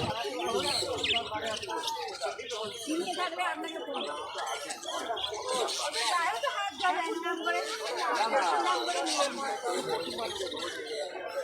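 Small budgerigars and lovebirds in cages at Galiff Street bird market in Kolkata, with dense overlapping chirps and chattering tweets throughout while a person talks nearby.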